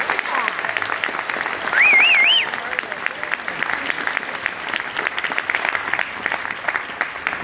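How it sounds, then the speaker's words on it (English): Sustained audience applause at an award ceremony, dense and steady throughout with a bright whistle-like squeal rising briefly near the start. "Let's give all those folks a nice round of applause."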